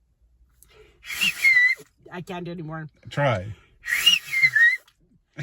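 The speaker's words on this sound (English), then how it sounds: "Do the whistle." A person whistles a few short tonal phrases between bursts of speech, close and moderately loud.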